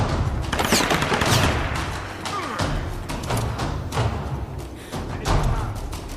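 Gunfire in the Tomb Raider video game: a series of sharp, loud shots and thuds at irregular intervals over a constant game background, with no talking.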